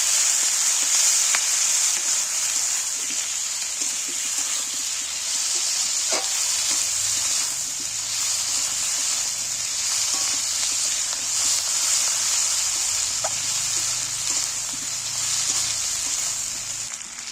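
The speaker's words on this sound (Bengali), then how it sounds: "এইবার আমি আদা রসুনটা একটু তেলের মধ্যে ভেজে নিই" Ginger and garlic paste frying in hot oil for a jackfruit and shrimp curry, a steady bright sizzle and hiss that holds evenly the whole time, with a few faint clicks of stirring and no talking.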